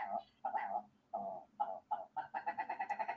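An unfamiliar bird gives a series of clear, near, tonal calls, first in spaced pairs and then in a faster run of rapid repeated notes at the end.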